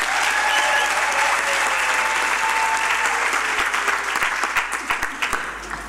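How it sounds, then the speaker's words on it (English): Sustained applause from a graduation ceremony audience, a dense steady wash of many hands that thins into scattered individual claps toward the end, with no talking over it. "it is prudent that we give them yet another round of applause"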